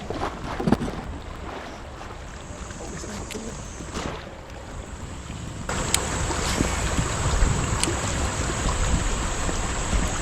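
Outboard motor on a boat pushing up a smallmouth bass river through current, a steady rushing drone mixed with water and wind buffeting the microphone, growing louder partway through.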